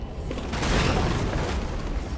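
A loud, close explosion in the video game Far Cry: New Dawn gives a heavy, rumbling boom that swells and keeps roaring for about two seconds, with no speech.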